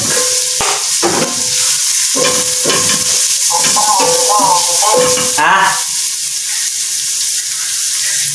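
Sardines with patola and misua frying in a pan while being stirred, a steady loud sizzle broken by repeated scraping strokes of the utensil, with no talk over it.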